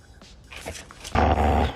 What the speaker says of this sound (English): Are you growling at mom?